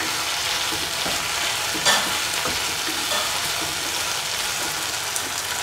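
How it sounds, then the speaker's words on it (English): Fried taro root being stirred into a hot pan, with a steady broadband sizzle and scraping stir strokes running throughout, close and fairly loud, with one brief louder knock partway through. "Put in the taro root that we fried early. Mix that with it."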